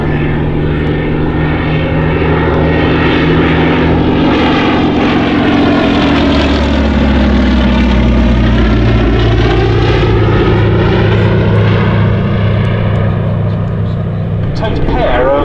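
A Mk.IIIA propeller monoplane makes a loud pass at the Shuttleworth air show, its engine drone swelling and shifting pitch as it flies by and holding strong to the end, with public-address commentary running over it.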